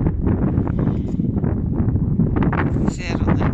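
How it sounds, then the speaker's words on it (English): Strong wind buffets the microphone beside a pond at Dead Horse State Park, a steady loud rumble that swells and gusts throughout. "It's too bloody windy though."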